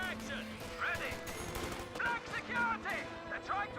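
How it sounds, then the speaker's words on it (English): Rifle squad and captain firing in Company of Heroes 2, a steady crackle of gunshots with scattered sharp cracks and a distant battlefield din, mixed under game effects. "the rifle squad and captain are both firing as well"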